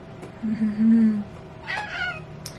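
A house cat meows indoors, giving a drawn-out, fairly faint cry, then a shorter, higher call later, over low room noise.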